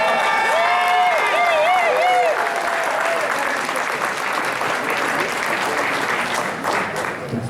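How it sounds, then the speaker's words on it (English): A crowd at a caucus meeting applauds loudly and steadily, with a few cheers at the start, then the clapping thins gradually. "Give him a round of applause."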